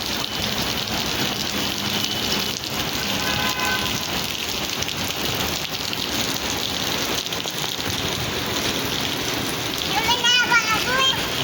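Steady rain pours down, a dense continuous patter on surfaces that stays loud throughout, with a few splashy bursts near the end.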